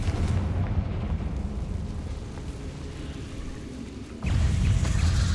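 The Bombarda explosion spell in the wizarding game Hogwarts Legacy: a sustained rumbling blast that fades, then a fresh loud burst erupts near the end.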